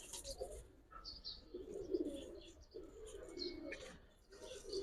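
Giribaz high-flyer pigeons coo softly in a loft, low murmuring calls in short repeated phrases with faint chirps, quiet and close.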